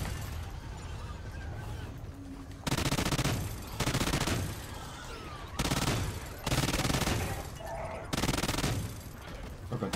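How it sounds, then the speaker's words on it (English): A minigun fires in Call of Duty Ghosts, loud sustained bursts of rapid gunfire separated by brief pauses, with faint background noise between volleys. "Minigun online."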